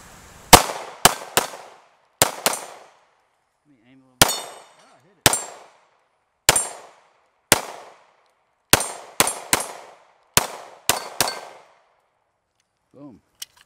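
Taurus G3 pistol fired at steel targets outdoors: about a dozen sharp loud shots, some in quick pairs, each followed by a ringing metallic clang that decays in the pauses.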